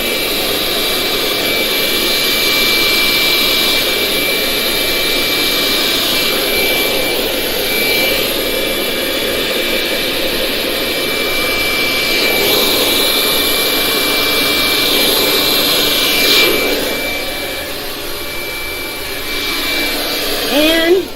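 Steady loud rushing air from a blower aimed at poured UV resin tinted red and white in a heart mold, holding continuously for about twenty seconds with brief swells near the end.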